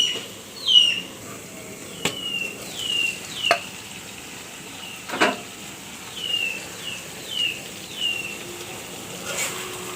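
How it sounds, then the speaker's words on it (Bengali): Eggplant cooking with hilsa fish belly in a pan is stirred gently, giving soft, evenly spaced scraping strokes over a low sizzle, with birds chirping faintly in the background. "বেগুনটা বেশি লাড়া দেওয়ানো যাবে না, গলে যাবে, এর জন্য আমি আস্তে লাড়া দিচ্ছি।"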